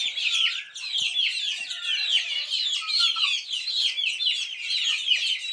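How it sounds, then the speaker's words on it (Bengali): A group of tiger chickens clucks and peeps constantly at close range, a busy, high, chattering flock with no pauses. "এদেরকে ওষুধ খাওয়াচ্ছি, এই টাইগার মুরগিগুলো"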